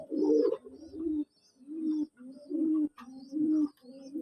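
A male pigeon coos repeatedly while courting a female, giving a steady series of close, low, throaty rolling coos separated by brief pauses, with no talking.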